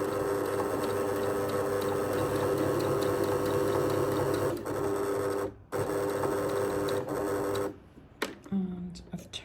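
A sewing machine stitches a shirt cuff placket at short stitch length, running steadily and fairly loud for several seconds with brief pauses near the end.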